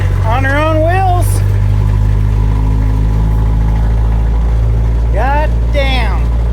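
A 1958 Jeep DJ-3A Dispatcher engine runs loudly and steadily as it drives, a rough low rumble that continues throughout while someone talks over it.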